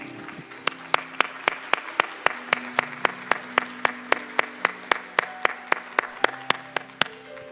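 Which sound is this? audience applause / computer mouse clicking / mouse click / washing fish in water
audience applause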